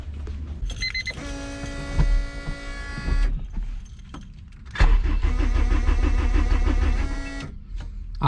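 An E85-fuelled Honda CRX rescued from a junkyard tries to start. The starter cranks loudly in two long whirring bursts with a pause between them, along with electrical clicks and a steady mechanical whine.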